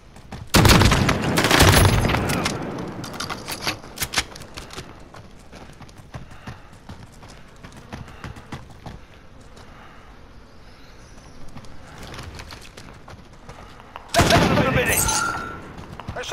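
Gunfire in the online multiplayer video game Call of Duty Modern Warfare comes in two loud, dense bursts, one at the start and one near the end, with quieter game sounds and a voice talking in between.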